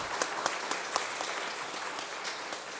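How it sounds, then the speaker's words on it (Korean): A church congregation claps together during a Sunday worship service, a sparse, uneven round of handclaps with a few sharper, louder claps standing out, heard at a moderate distance in a reverberant hall. "박수 한번 하실까요?"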